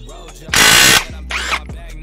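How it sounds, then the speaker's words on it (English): A crank extractor is twisted to pull a bicycle crank during drivetrain disassembly. It makes a loud, close ratcheting clatter, then a second shorter burst of clicks after a pause, with no talk. "Throw it in our crank extractor,"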